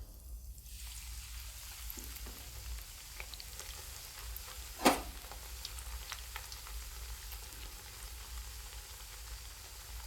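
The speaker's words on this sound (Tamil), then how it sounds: "மீடியம் ஹீட்டில் இருக்கும்போது நம்ம இந்த ப்ரெட்டு ஸ்லைஸ் எல்லாம் போட்டு நம்ம வறுத்து எடுத்துக்கலாம்" Bread slices fry in oil over medium heat for a milk-and-bread sweet, a soft steady sizzle beneath low background hum, with one sharper clatter midway.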